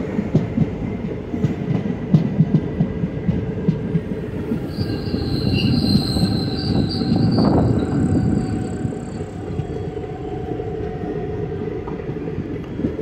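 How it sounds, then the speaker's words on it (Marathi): A train runs on a single-track line near Almatti past sugarcane fields, a loud sustained rumble of wagons with squealing wheels and rhythmic clatter that swells in the middle and holds steady, with no voices. "आता आलमट्टी गेलं तरीसुद्धा सिंगल ट्रॅकवरच अजून गाडी चालली आहे"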